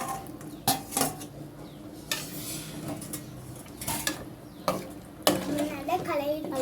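Masala, tomato and onion being stirred into mutton leg soup in a pot, with a spoon clanking and knocking against the pot several times in irregular bursts, partly under a voice talking.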